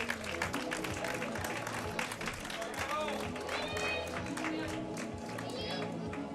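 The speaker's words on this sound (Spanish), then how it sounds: "fuerte el aplauso para él." Crowd applause at a minimoto race at the Kotarr speed circuit in Burgos, a steady wash of clapping and cheering running the whole time under a loud announcer's voice.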